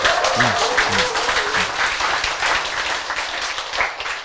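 Audience clapping during a talk, thick continuous applause at close range with a few voices speaking early on and a slight lift in loudness near the end.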